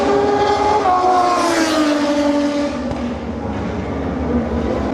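MotoGP motorcycles race past during a practice session at the MotoGP 2025 event, a loud, close, continuous engine roar whose pitch swoops and falls as the bikes pass.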